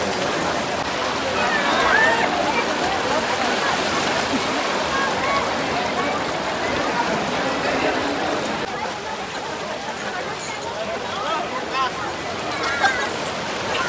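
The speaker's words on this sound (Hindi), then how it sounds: "बहुत ज़्यादा वाटर का फ्लो है" The fast-flowing Ganga river at Haridwar rushes in a loud, continuous broadband roar close by, while voices of people talking mingle underneath the churning water.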